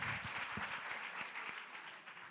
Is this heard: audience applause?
yes